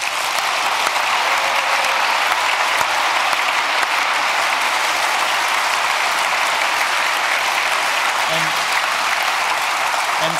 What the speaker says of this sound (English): a big applause for our speakers because the content here was really outstanding this year